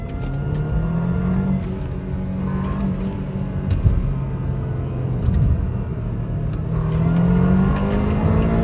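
A turbocharged 2013 BMW 323i engine, about 400 horsepower, roars and builds as it accelerates, a steady loud rumble with rising revs throughout, up close from inside the vehicle.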